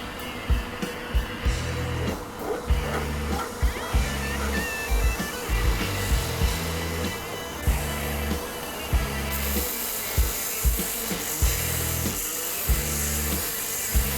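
A belt sander with a 120 grit belt works a chrome fuel tank from a BSA Empire Star motorcycle, a continuous harsh whir broken by repeated rhythmic strokes as the belt is pushed across the metal, close and prominent.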